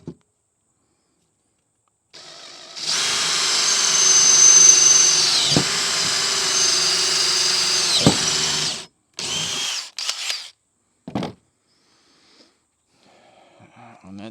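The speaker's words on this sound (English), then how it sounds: "Go ahead and drill the second hole." A power drill bores a hole in a NuCanoe Frontier 12 kayak for landing gear, a loud steady whine of about six seconds. A few short bursts follow, with brief pauses between them.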